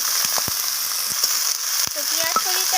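Nigella seeds and tempering spices with grated ginger fry in hot oil in a pan, a steady close sizzle broken by several sharp spatula scrapes and taps as the mix is stirred.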